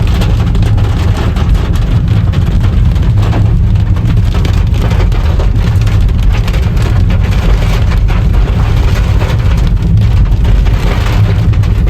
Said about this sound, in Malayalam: ചെറിയ മഴ കാണാം, അതായത് ഇങ്ങനെ ഓവറായി പെയ്യാതെ ചെറിയ ചെറിയ മഴകളുണ്ടല്ലോ, അങ്ങനെ കേൾക്കാം.